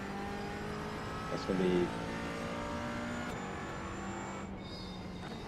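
A race car engine revs hard at full throttle around Canadian Tire Motorsport Park in iRacing. The steady engine drone plays at low level while someone talks over it.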